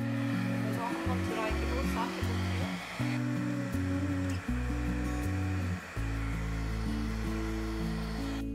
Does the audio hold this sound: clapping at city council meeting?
no